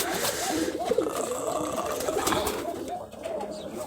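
Close pigeon cooing from a Giribaz pigeon at a pigeon farm in Rajshahi, low throaty murmurs repeating over a busy, noisy background.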